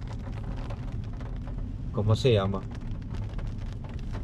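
Heavy rain pours steadily on a car during a drive in Aibonito, Puerto Rico, a dense continuous hiss under a brief spoken question from someone inside.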